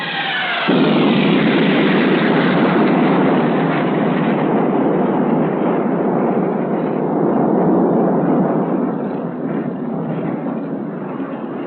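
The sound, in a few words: F-104 napalm strike on tank targets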